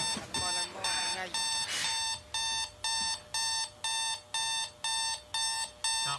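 A loud electronic alarm clock beeps in a steady repeating pattern, close by, with a person talking over the first few beeps.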